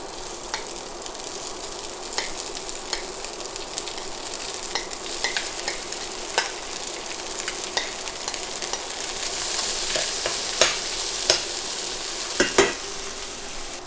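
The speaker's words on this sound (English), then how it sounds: "I'm just gonna toss these and cook these and kind of saute them for about 2 minutes until they get nice and toasty" Whole grains sautéing in a pan until toasty, a loud steady crackling sizzle with frequent sharp ticks and scrapes as they are stirred and tossed, busier toward the end, no voices.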